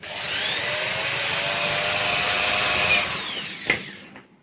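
Close, loud whine of a small drill boring through an epoxy resin keychain, one continuous run that winds down at the end.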